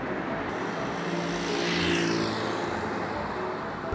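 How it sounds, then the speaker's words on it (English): A cartoon car pulls away as a street traffic jam clears, a smooth engine whoosh that swells and passes at mid-distance, then fades slightly. "The car started to drive smoothly and carefully."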